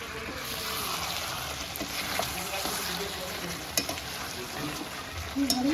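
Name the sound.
mutton being cooked, stirred and frying in a pan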